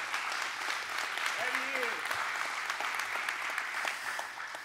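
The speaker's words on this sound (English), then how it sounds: "Somebody give the Lord a hand clap of praise for that truth" Church congregation breaking into a hand clap of praise, a full steady roar of many hands clapping that continues throughout, with a brief voice calling out briefly in the middle.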